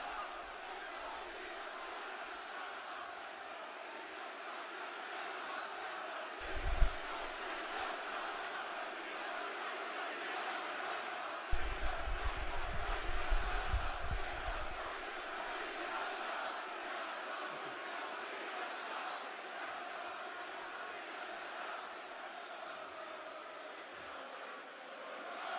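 Large arena crowd at WWE Friday Night SmackDown, a steady roar of many voices that swells into louder bursts of chanting and cheering partway through, continuous and distant-sounding throughout.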